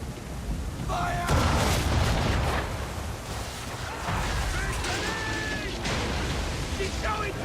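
Ship cannons firing in Assassin's Creed III during a naval battle at sea, heavy booms and crashing impacts over continuous wind and water roar, with shouted voices in between.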